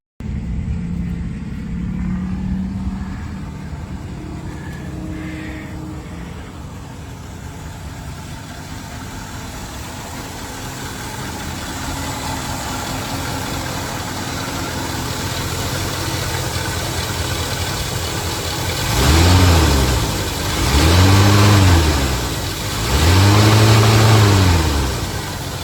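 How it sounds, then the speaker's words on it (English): A carbureted V8 in a 1976 Chevrolet Malibu idles with a steady, slightly uneven rumble, then revs up three times in quick succession near the end, each rise swelling and falling back, heard close and alone. "the unmistakable sound of a carbureted V8"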